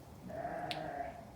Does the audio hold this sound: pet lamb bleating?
yes